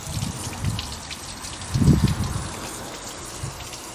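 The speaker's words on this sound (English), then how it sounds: "we're getting water coming back out the return pipe because there's no cooling rail" Water gushes and splashes from the return pipe of a Ford Focus Mk1 during engine work, a wet trickling with a louder surge in the middle, close by.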